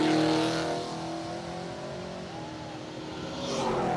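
Street race cars accelerate past at an outdoor drag event in Brown County with a broad, roaring engine wash that swells near the start, eases off, then rises again as the cars go by at a distance.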